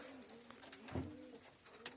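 Soft, low cooing of homing pigeons nearby in a loft, a few murmuring coos with faint rustling in a quiet space.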